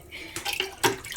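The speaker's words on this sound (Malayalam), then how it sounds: "കഴുകുന്ന അത്രയും ഇത് കഴുകിയിട്ട് വെള്ളം തോർക്കാനായിട്ട് അരിപ്പേര് ഇത് വെക്കണം." Water running and splashing as ration rice is washed and drained through a sieve, two or three short pouring gushes close by, faint and without talk.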